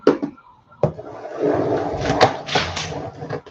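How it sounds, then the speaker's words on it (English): A bedroom door is pushed open with a few sharp clunks of the latch and handle, followed by a stretch of rustling and knocking movement nearby, with a short burst of louder activity partway through. "I'm opening the door."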